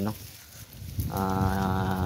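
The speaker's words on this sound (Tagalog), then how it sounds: "yung aking mga kambing ay nandito" A farm goat bleats once near the mic in an open field with no crops, a drawn-out wavering call that follows a short lower sound and a brief pause.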